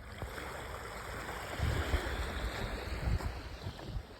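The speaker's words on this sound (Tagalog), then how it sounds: "ito ang dagat dito sa Prince Edward" Sea waves washing onto the shore at Prince Edward Island, a low rumbling surge with wind buffeting the microphone, swelling louder in two pushes over a few seconds.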